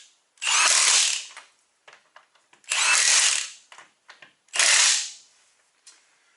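A 1/2 inch cordless impact wrench, a Milwaukee compared against a Dewalt DCF899H, fires three loud, close bursts of rapid hammering, each about a second long. Short gaps with light clicks and handling noise separate the bursts.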